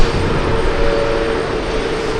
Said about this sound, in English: That's a takeoff.